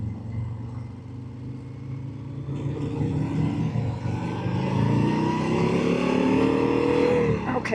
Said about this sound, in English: I can hear and feel it when it gears up, which is true to Harley.